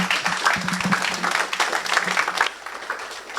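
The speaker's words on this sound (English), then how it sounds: "let's give a big round of applause to Kwaku Sakyi-Addo" A seated audience welcomes a speaker to the stage at a talk. The applause is steady and moderately loud with distinct claps throughout, and it eases off over the last second.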